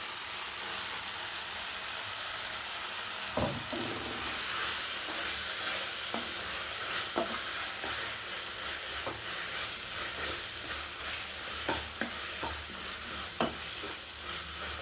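Gongura leaves, tomato and onion sauté in a pan, producing a constant, close sizzle broken by periodic sharp clicks and scrapes of stirring.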